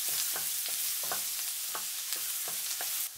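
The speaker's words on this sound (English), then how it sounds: "When the oil is hot, add the chopped garlic. Stir for 10 seconds." Chopped garlic sizzles steadily in hot oil in a pan while a utensil stirs it in regular scraping strokes, a continuous close frying hiss throughout.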